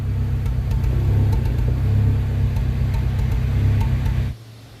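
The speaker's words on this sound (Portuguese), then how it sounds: "Como nós temos uma falha momentânea no escapamento" A Fiat Palio 1.3 16-valve engine runs with a steady low rumble and uneven misfiring sputter from the exhaust, then cuts off abruptly near the end.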